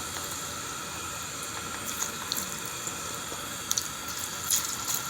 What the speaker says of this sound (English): See how nicely those are frying up?